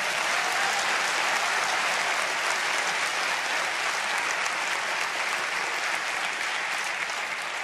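A church congregation applauds during a sermon, a steady dense wash of clapping from many hands that holds evenly throughout, fairly close and filling the room.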